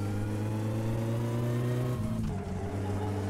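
Car engine in the video game My Summer Car revving hard and steady with a droning tone, then dropping off briefly near the end, no talk over it.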